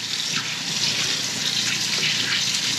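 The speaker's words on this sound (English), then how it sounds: "Wash my hands off real quick." Running tap water splashing steadily as hands are washed in a kitchen sink while cooking crab cakes, a continuous close hiss and patter with no talk.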